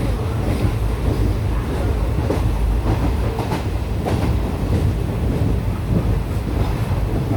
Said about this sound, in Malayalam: This is a train from Kanyakumari to Kottayam.